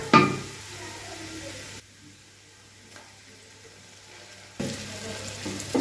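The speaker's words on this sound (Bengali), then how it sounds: "এবার এর মধ্যে 2 টেবিল চামচ আদা রসুন বাটা দেব।" Ginger garlic paste frying with lightly browned onions gives a close crackling sizzle at the start that drops to a quiet simmer, then flares up again with stirring near the end.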